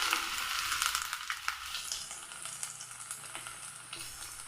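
Finely chopped garlic and ginger fry in hot oil with mustard seeds, a close, steady crackling sizzle with small popping spurts and no voices.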